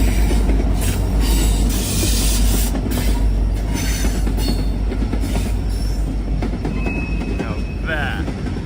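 A freight train led by a Ferromex AC locomotive in zebra paint, working as a distributed power unit, and a Norfolk Southern AC locomotive rolls past nearby. Its steady rumble and clatter continue throughout, and wheels squeal briefly near the end.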